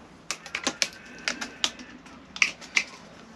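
Tin snips cutting a metal render bead for an aggressive cutback, heard as a run of sharp, crisp metallic snips in an irregular rhythm, close and fairly loud with no talk.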